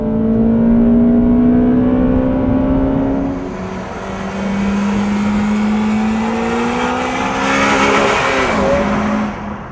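Honda Civic Type R with a 2-litre VTEC engine revs hard and loud, its pitch climbing and holding high, easing briefly, then winding up again in strong sustained pulls without any talking.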